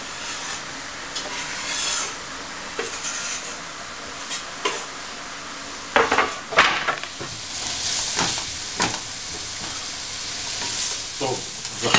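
Onion, garlic and hot pepper fry in hot olive oil with a steady sizzle, broken by repeated scraping stirs and louder bursts of crackle midway through.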